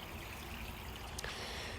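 Steady rushing of water from a waterfall pouring into a pond beside a wooded creek, a continuous broadband wash heard close and unbroken, with a brief brighter splash partway through.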